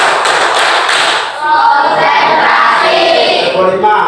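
Sixth-grade pupils in an elementary school classroom perform a group spirit clap: loud, dense clapping from many hands with a rhythmic pulse and a brief dip partway through, voices faintly mixed underneath.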